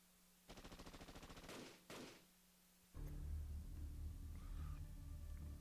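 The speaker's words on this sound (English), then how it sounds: "Those were gunshots, but who's shooting inside Chaldea?" Rapid gunfire bursts ring out inside Chaldea in the game Fate Grand Order: a steady machine-gun-like rattle, then a second short burst, followed by a loud low rumbling, thudding background.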